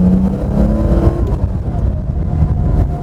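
A Porsche 911 SC with about 250 horsepower drives along a lakeside road in Geneva, its engine a loud, steady, close drone with a brief rise in pitch early on.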